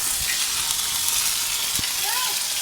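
Hot oil sputters and sizzles in a pan after garlic paste goes in, a bright, constant crackling hiss close by, with a few soft knocks and a brief faint tone in the background.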